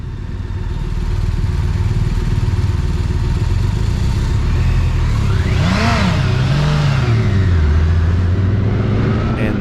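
A touring motorcycle, either a BMW K1600B or a Honda Goldwing, with a snatchy, overreactive throttle, rumbles steadily under wind noise and then blips its engine up and back down once, close and loud.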